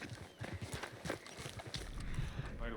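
Horse hooves clip-clopping in the video game Red Dead Redemption 2, a quick repeated rhythm of hoofbeats heard close up over continuous outdoor game ambience.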